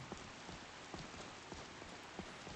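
Steady rain falls on a surface, a faint continuous hiss broken by soft scattered drop taps, with no voices.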